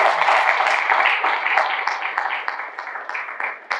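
An audience at a leadership forum applauding, dense close clapping from many hands that starts strong and gradually thins toward the end.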